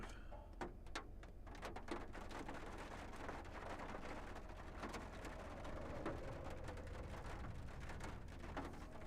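Steady rain drumming on the roof of a storm chasers' car in Northwest Texas, a dense, even patter that fills the cabin without a break, with occasional sharper drops and no voices.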